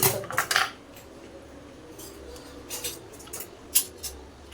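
Noodles tossed with spices in a metal pan, with sharp clinks and scrapes of a utensil in irregular bursts over a quiet background, no talking.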